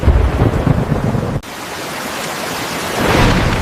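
Heavy rain pours down during a thunderstorm over a farming village, a dense steady roar broken by a sudden sharp crack, then the downpour continues and swells again.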